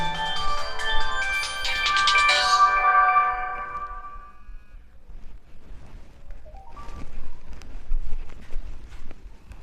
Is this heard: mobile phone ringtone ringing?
yes